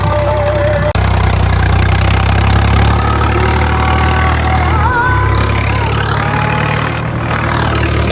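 A John Deere 4WD tractor engine runs steadily at close range during cultivator work on a farm, a constant mid-pitched diesel drone with a brief dip near the start and no talk.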